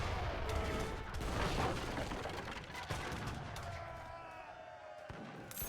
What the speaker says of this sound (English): the mortars, look, taking down a town center now